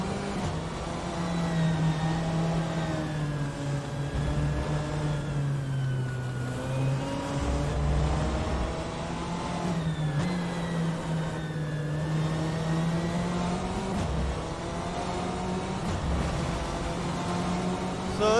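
A BMW M8 GT3 race car engine in the rFactor 2 racing game drones loudly and continuously, its pitch rising and falling through gear changes and revs, with someone talking over it.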